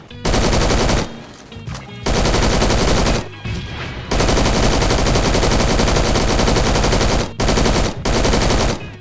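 Rapid full-auto SMG fire from the Phantom Forces shooter game, loud and close, coming in several sustained bursts separated by short pauses, with no talking.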